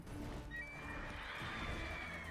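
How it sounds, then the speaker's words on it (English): A horse in the video game The Witcher 3 lets out a loud, close whinny lasting a couple of seconds, with a faint clip-clop of hooves underneath and no talking. "Wow, nice horse."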